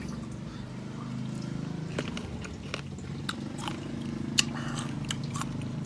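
Sour fruit such as green mango being bitten and chewed close up, wet crunches and chews scattered over a steady low background hum.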